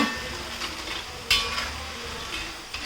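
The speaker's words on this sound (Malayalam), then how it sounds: "ഒരു സൗണ്ട് വരുന്നുണ്ട് അധികം കരിഞ്ഞു പോവാതെ വേണം ഇത് നമുക്ക് ഫ്രൈ ചെയ്തെടുക്കാൻ വേണ്ടിയിട്ട്" Jackfruit chips frying in hot oil, a steady soft sizzle and bubbling at close range with occasional stirring scrapes and a brief clink partway through, no talk.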